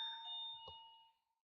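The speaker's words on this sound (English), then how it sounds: "someone ringing our doorbell." A doorbell rings with a single ringing chime tone that decays and fades out within about a second and a half, with a soft knock near the middle.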